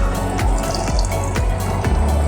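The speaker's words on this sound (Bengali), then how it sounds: "এখন আমি যে প্লেটের মধ্যে সর্ষেটা বেটে রেখেছিলাম সেই প্লেট ধোয়া জলটা দিয়ে দিলাম" Water rinsed from a plate of ground mustard is poured into tilapia fish curry (kalia) in a pan, giving a loud, continuous close-up splashing gush with a low bubbling rumble beneath, alone without speech.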